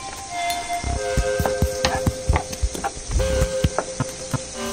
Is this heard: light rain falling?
no